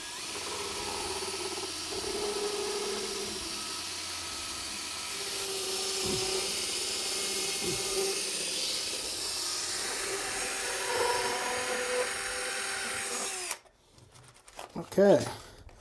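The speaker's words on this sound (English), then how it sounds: "I'm looking to cut about 5 inches off of that pipe" Power tool with a blade cutting about five inches off a pipe during toilet installation, a steady loud whirring and hissing drone that stops abruptly near the end, followed by a brief voice.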